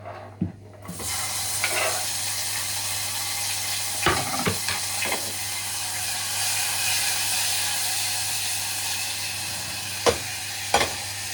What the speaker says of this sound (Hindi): हम टमाटर एंड प्याज भी ऐड कर देंगे